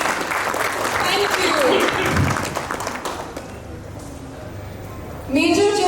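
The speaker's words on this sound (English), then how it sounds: "Can we have a big round of applause, ladies and gentlemen, please?" An audience at an entrepreneurship business conclave claps for a few seconds before the applause thins out, and then a voice speaks over the fading clapping.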